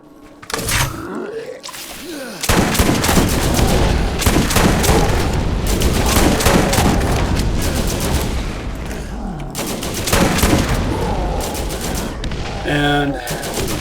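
Maliwan elemental shotgun (the Crux, or Plague) firing in Borderlands, a rapid run of loud, dense blasts and booms that keep going for about eleven seconds after a short quieter opening, with a brief pause near the ten-second mark.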